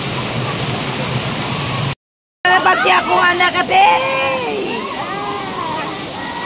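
Powerful waterfall water pounds down steadily at Bajang, a loud broadband roar broken by a brief dropout, with excited voices talking and exclaiming over it.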